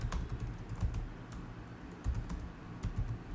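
Typing on a computer keyboard, a steady run of close, clicky keystrokes with a few heavier taps, heard alone with no talking.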